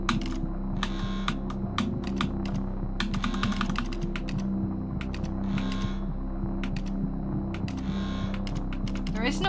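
Computer keyboard keys are tapped in quick irregular bursts of sharp clicks during the game Stories Untold, over a steady electrical hum.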